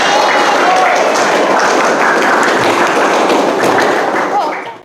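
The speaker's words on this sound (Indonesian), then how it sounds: "Berikan tepuk tangan untuk kelompok" Sustained applause from a classroom audience for a presenting group, dense clapping and tapping that holds steady for several seconds before fading out at the end.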